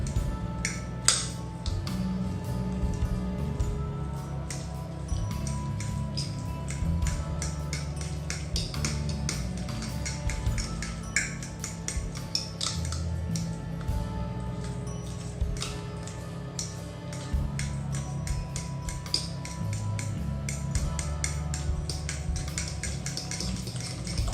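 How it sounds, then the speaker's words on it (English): A fork mashing cooked, soft bananas in a bowl, giving a steady stream of quick, close ticking clinks of metal on the bowl with faint soft squishes, continuing without pause and with no talking. "I'm just going to mix them up. Just with a fork is easiest."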